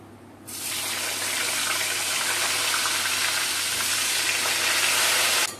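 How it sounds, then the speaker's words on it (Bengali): Pointed gourd (potol) pieces frying in a pan make a steady, loud broadband sizzle that starts abruptly after half a second and holds evenly to the end, with no voices. "পটলগুলো ভেজে নিচ্ছি।"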